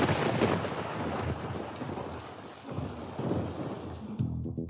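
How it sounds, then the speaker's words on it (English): Steady heavy rain pours down with rolling thunder rumbling underneath, a continuous loud wash of noise that swells in places and cuts off near the end. "Oh, no. It is raining."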